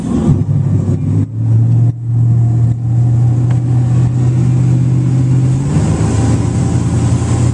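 A 2006 Air Nautique 226 Team Edition wakeboard boat's engine on a lake throttles up from a steady drone to a louder, rising roar, accelerating continuously toward about 22 mph.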